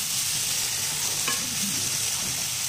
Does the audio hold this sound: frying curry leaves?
yes